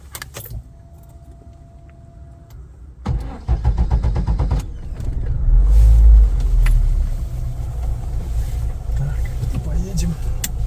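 A Lada Niva starts up and pulls away: keys jangle, a short electric whir, then the engine catches and rumbles steadily at close range, loud and continuous.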